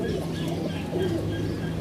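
A pigeon coos softly and repeatedly, low throaty calls close by, with faint bird chirps in the background.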